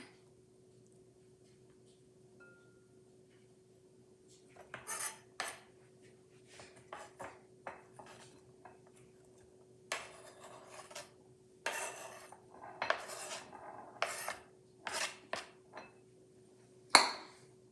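A knife dices onions on a cutting board in quick uneven clusters of crisp chops and scrapes, close and clear, with quiet gaps between bursts and a steady low background hum, no voices.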